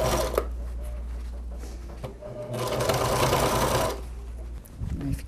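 A sewing machine runs close up while stitching the lining of a double toiletry bag: a steady motorized hum that rises to a faster burst of stitching and then stops briefly.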